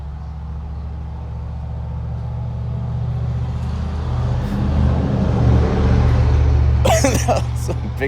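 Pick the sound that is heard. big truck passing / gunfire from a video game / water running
big truck passing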